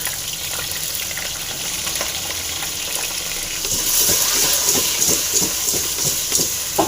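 Mango pieces frying in a pan, a steady sizzle with hiss that grows louder partway through as rhythmic scraping stirring strokes join in.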